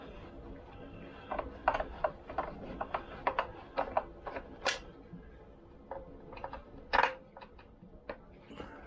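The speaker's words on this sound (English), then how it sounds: "I'm going to take off all the screws on the fan cowling. One by one." Screws being taken out one by one from the fan cowling of a Vespa PX200 scooter, heard as close, quiet ticks, tool clicks and small metallic clinks over a low background hum.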